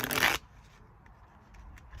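A short burst of tarot cards being shuffled by hand, a quick riffling flutter lasting under half a second, then near silence.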